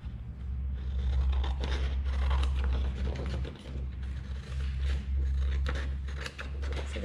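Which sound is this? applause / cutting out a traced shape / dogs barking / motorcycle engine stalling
cutting out a traced shape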